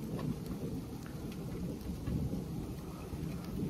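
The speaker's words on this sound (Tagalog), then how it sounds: "Parang yelo siya na maliliit." Small ice pellets of the first snowfall in Canada patter steadily and densely, a continuous near hiss with no voices and no gaps.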